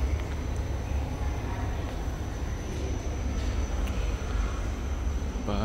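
A high-speed train rumbles along an elevated rail line above a parking area beneath the toll road, a steady, continuous roar with faint wheel squeal throughout, heard from below and moderately close.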